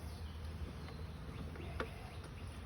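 A steady, dense insect hum of many honey bees buzzing close by around an open hive, continuous and fairly faint, with a few brief rustles and clicks.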